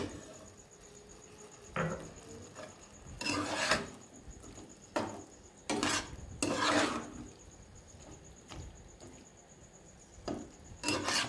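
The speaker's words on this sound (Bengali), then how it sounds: "এবং আলুটাকে খুব সুন্দরভাবে কষতে থাকবেন।" Potatoes for aloo posto being stirred and sautéed in a pan make repeated bursts of close scraping and rasping, separated by short quieter gaps.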